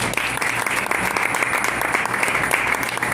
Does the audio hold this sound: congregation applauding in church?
yes